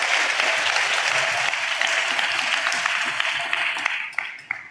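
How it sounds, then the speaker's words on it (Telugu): A church congregation claps in sustained applause that stays dense and loud, then thins into a few scattered claps at the end. "చప్పట్లు కొడితే యేసయ్యకు స్తోత్రాలు చెప్తాం"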